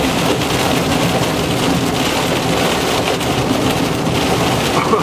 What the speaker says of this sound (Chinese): 沙漠竟然下大雨哎，好可怕！